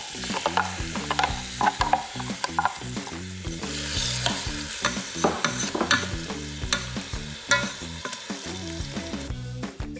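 Green and yellow peppers with a Spanish onion sauté in a Ninja Foodi, giving a continuous sizzle with frequent scraping stirs in an irregular rhythm, close by, under a steady tonal hum and with no talk.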